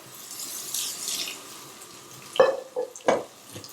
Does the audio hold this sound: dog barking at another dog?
no